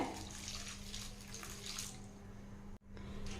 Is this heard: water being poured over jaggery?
yes